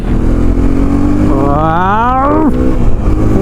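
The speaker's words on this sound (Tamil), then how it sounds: "டெஸ்ட் ரைட் பண்ணிடலாமா? ஃபர்ஸ்ட் கியர், செகண்ட், தேர்ட் போட்டாச்சு." A Hero Xpulse 210 motorcycle accelerates hard on a test ride, its engine note rising steadily in pitch, dropping at a gear change, then climbing again, loud and close over heavy wind rush.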